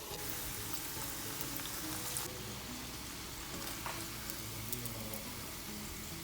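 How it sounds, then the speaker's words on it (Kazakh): Eggplant slices fry in hot oil, giving a steady, moderately loud crackle and sizzle that carries evenly through the whole stretch, with no voices. "Қызған майға осылай баклажандарымызды салып, екі жағын қызартып қуырып аламыз."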